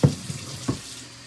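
Tap water runs briefly during dough making in a home kitchen, a soft continuous splash marked by a couple of small knocks, near and moderate in level with no talking.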